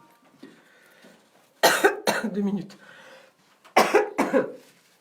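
Harsh bronchitis coughing in two bursts, each a cluster of several loud chesty coughs, with quieter background sounds in between.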